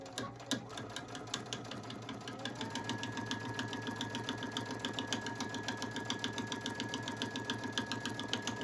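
A sewing machine stitches a placemat into a small basket, starting slowly then settling into a fast, even mechanical whir with rapid ticking needle strokes, close and steady, no talk.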